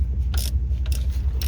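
A ratchet tightens bolts on an FSWERKS torque mount, producing three quick bursts of ratcheting clicks at a steady pace, close and fairly loud over a constant low hum.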